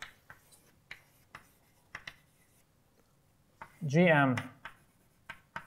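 Chalk or marker taps and scrapes on a board during a mathematics lecture on equivariant elliptic cohomology: short strokes come in a loose, regular rhythm and continue around a brief spoken word from the lecturer.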